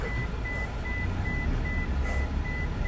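Rapid, evenly spaced electronic beeps repeat about eight times inside a car, a steady high tone over a low engine rumble, with no talking.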